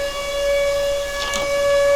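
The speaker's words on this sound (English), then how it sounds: "Those sirens are really loud." A loud, steady tornado siren wail in a video game holds a single sustained tone throughout, with a brief burst of noise midway.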